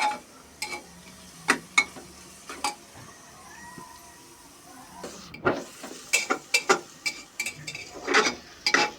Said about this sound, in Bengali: এখন আমি ভালোভাবে এটা নেড়ে নেবে